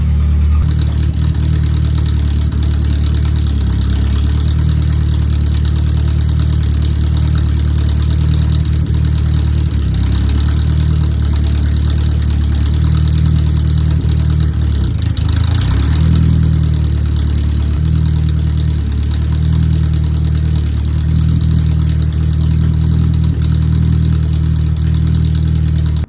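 A chassis-swapped 1959 Mercedes rat rod idles loudly through a temporary exhaust with a deep, rumbling drone, a brief rev swelling midway before settling back.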